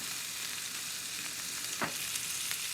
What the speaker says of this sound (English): And fry until a little bit crispy.